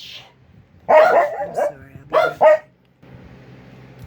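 Dog barking outside, two close pairs of loud, sharp barks separated by a short pause, followed by a low background hum.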